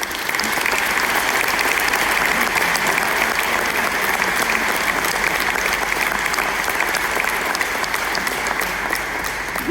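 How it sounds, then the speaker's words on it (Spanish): Ceremony audience giving sustained applause, a dense, loud, even wash of many hands clapping with no break for the full stretch. "Os pido un aplauso."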